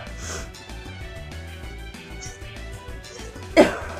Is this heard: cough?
yes